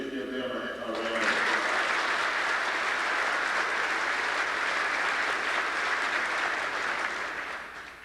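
After a brief moment of a voice speaking, an audience breaks into a full, sustained round of applause that swells quickly and stays loud and dense, tapering slightly at the end.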